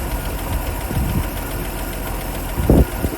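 A Land Rover Series 3 engine idles on its tank fuel with a steady low rumble and a slight knock, close by, with faint brief mechanical bumps and no talking.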